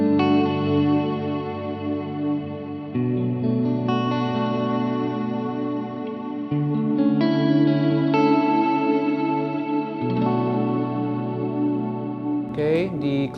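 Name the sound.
guitar chords through ambient reverb pedal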